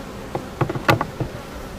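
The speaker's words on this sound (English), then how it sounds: "It looked like a pretty large swarm." Honeybee swarm shaken into a hive box during a swarm capture in Maple Hill, North Carolina, giving a few short buzzing bursts and bumps, close and moderately loud, with no talking.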